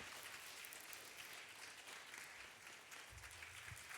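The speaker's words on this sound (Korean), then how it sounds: "큰 박수." Congregation applause fills a church during a Christmas Day Sunday worship service, a steady, dense wash of many hands clapping together for about four seconds with no voices over it.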